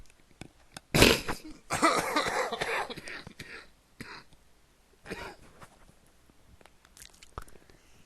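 A man coughs hard in a quiet room, with a sharp burst followed by a longer rough, throaty fit, then a few fainter coughs and throat clears spread out afterward.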